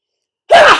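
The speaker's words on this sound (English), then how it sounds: "I'm going to sneeze very soon, so I apologise in advance" A single sharp sneeze bursts out after a stretch of silence, close and loud, trailing off briefly.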